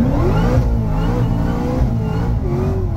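The engine of a 1200hp street car roars loud and close under hard throttle as the wheels spin, a sustained revving drone with shifting pitch and no talk.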